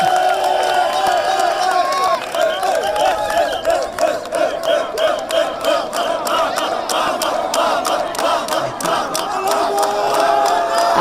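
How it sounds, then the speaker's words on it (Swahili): A crowd at a gathering applauds and cheers after being called on, a continuous mix of clapping, shouts and excited voices over about eleven seconds, loud and close. "wapigieni makofi"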